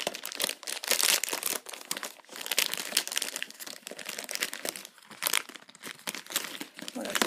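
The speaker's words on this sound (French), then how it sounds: "Donc, je vais le déballer." Plastic packaging around an eyelash curler is unwrapped, giving steady close crinkling and crackling that continues with brief pauses throughout.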